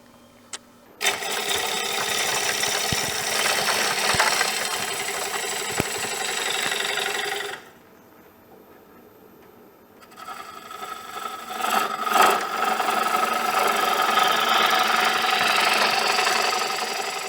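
A wood lathe spins while a turning tool shapes an heirloom wooden bowl, a steady loud grinding whir with scraping texture, pausing briefly midway before the cutting resumes at full strength.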